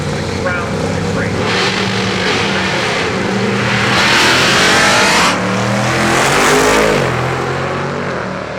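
Drag racing cars launch and roar down a dragstrip during first-round eliminations at an event with 30-plus entries. Loud, sustained engine noise swells and fades in waves as cars pass, with talk in the mix.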